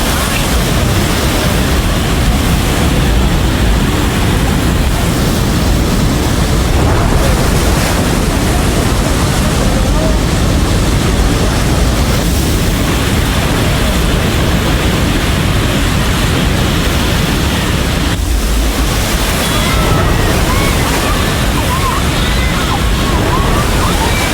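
Flash flood water rushes steadily at the Nepal–China border, a loud, unbroken roar of churning water filling the whole scene with no let-up.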